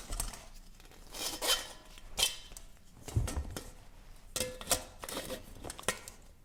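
Nesting camping cooking pots for bikepacking are handled and fitted together, giving close, irregular metallic clinks, scrapes and rustles at moderate loudness, with no one talking.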